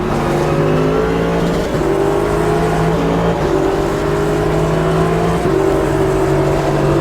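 Ligier JS P320 prototype race car in the Automobilista 2 racing game, its engine droning loud and steady as it climbs through gears, with three clear shift steps spread across the run and no voices.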